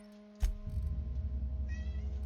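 A cat meows nearby in the video game The Outer Worlds over a steady low hum, with a sudden thump near the start and a brief high tonal cry later.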